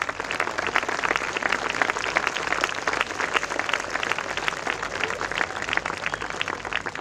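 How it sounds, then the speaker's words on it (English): A large audience applauding at a school valedictory ceremony, dense and sustained clapping that stays loud and even throughout with no pause. "I think we deserve a huge round of applause."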